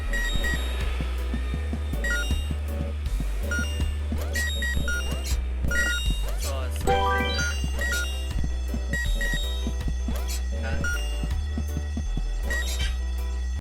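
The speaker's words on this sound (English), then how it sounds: "The ear-splitting sound was the fire alarm." Fire alarm ringing in the video game Horace: a loud, rapid, continuous bell-like ringing over a pulsing game music bed, steady throughout without pause.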